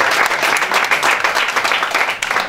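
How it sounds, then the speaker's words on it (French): An audience at a regional beauty pageant applauds a contestant with steady, dense clapping that fills the room, loud and continuous from start to finish. "Sandra, que je vous demande d'applaudir bien fort"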